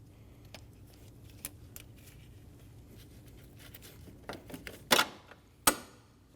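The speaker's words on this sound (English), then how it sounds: "I'm going to pull the belt right off my top pulley." Serpentine belt pulled off the top pulley of a 2012-2022 Volkswagen Passat 2.5L five-cylinder, heard as faint scattered ticks and taps, then two sharp, loud snapping clicks near the end.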